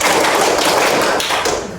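Children in a classroom clap together in a clapping game, dense overlapping hand claps and thumps sounding loud and close, with no talk.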